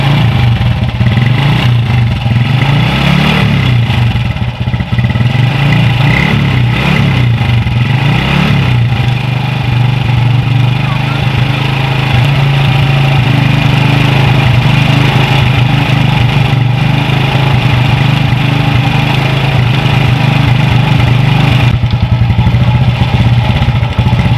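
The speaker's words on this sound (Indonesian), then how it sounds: "ini motor bisa nyala lagi ya teman-teman ya, karena kompresinya sudah dapat" A motorcycle engine running again after its lost compression was restored, with oil in the combustion chamber making the exhaust smoke; a loud, close, steady idle with slight revving throughout.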